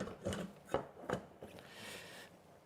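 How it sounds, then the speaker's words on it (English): Several sharp knocks on the front wheel axle of a motorcycle, a Series 1 with anti-dive forks, spaced roughly every half second, close and fairly quiet, ending in a softer scraping rustle. "I'm just going to give it a tap here on the axle."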